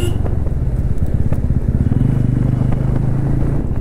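A motorcycle rides slowly along a narrow mountain road, its engine a loud, close, steady throbbing rumble with a slight rise in pitch partway through, with wind buffeting and no speech.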